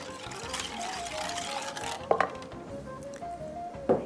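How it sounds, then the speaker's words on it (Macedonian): A wire whisk beats eggs in a bowl while making moussaka with filo pastry and leeks, giving a steady stirring and scraping sound with a couple of sharper clinks against the bowl. "И со маталка почнувам да матам."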